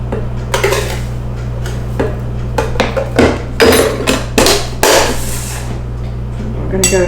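A spoon clatters and scrapes against a bowl while brown sugar marinade with ginger is stirred, producing a run of quick, loud clinks and knocks over a steady background hum.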